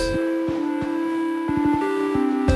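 A SynthMaster 2 software synthesizer sequence, varying every bar, plays sustained tones that step between pitches, punctuated by short percussive clicks in an irregular rhythm, steady and fairly loud.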